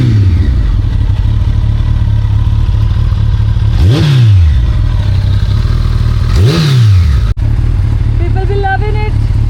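Motorcycle engine revving through both exhausts, loud and close, with a steady idle broken by two quick rising-and-falling blips of the throttle and a brief cutout near the end.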